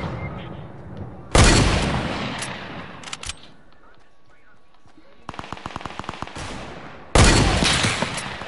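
Gunfire in the video game Fortnite: loud dense bursts of automatic fire open and close the passage, with a rapid string of single shots in between, and a voice talks over part of it.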